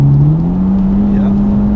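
A Mitsubishi EVO 10 with a 2-litre engine tuned to 500hp accelerates, a loud steady engine drone rising slowly in pitch, heard up close from inside the car.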